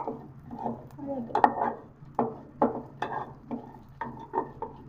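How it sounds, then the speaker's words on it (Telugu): Dry fruits stirred in a pan of ghee, with a series of close scraping and clinking strokes of a spoon in a quick irregular rhythm over a faint background hum. "ఇప్పుడు 2 టేబుల్ స్పూన్ల నెయ్యి వేసి డ్రై ఫ్రూట్స్ వేయించుకున్నాం"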